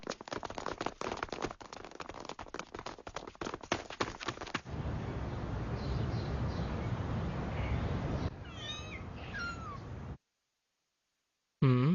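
A cartoon cat gives a few short meows near the end, after a stretch of clattering steps and a hissing wash, then the sound cuts to silence before a final burst.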